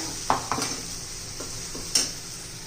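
A thick ground masala paste for potato curry sizzles softly in oil in a pan while a spoon scrapes and stirs in a few sharp strokes.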